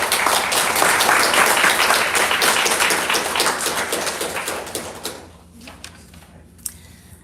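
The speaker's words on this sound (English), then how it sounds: "Please give a round of applause for all of our sponsors and contributors." A symposium audience in a hall gives a round of applause for sponsors, a loud, close, crisp mass of claps lasting about five seconds before fading to a few stray claps and room sounds.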